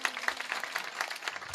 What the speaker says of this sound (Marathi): त्यांच्यासाठी जरा टाळ्या तरी होऊ द्या.